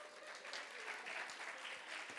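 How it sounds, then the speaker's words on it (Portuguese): Applause from a church women's seminar congregation, a steady dense wash of many hands clapping throughout, fairly loud with no pauses. "Aplauda Jesus."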